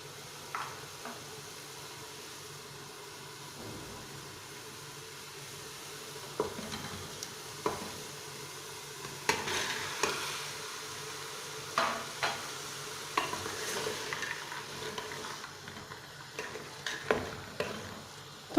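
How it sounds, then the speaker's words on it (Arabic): Meat frying in a pan as beans are stirred in, a steady low sizzle with scattered scraping stir strokes and clinks that grow busier toward the end, fairly close. "عند تقلية اللحم نضع اللوبيا"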